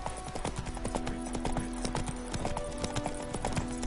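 Geralt's horse Roach gallops in The Witcher 3, hooves pounding in a fast, even rhythm up close over a low steady hum from the game world.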